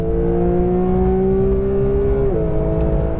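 A Porsche GT3, a rear-wheel-drive car, revs hard toward 9,000 RPM on a track, its engine note climbing as a steady loud wail before a sudden shift in pitch near the end.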